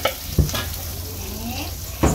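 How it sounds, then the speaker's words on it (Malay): Shallots, garlic and sliced chili fry in very hot oil, a steady sizzle punctuated by a few sharp stirring knocks against the pan. "Bila minyak dah betul-betul panas, kita masukkan bawang merah, bawang putih dan juga cili yang telah dipotong."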